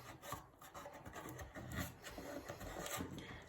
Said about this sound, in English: We can then use a piece of masking tape around the outsides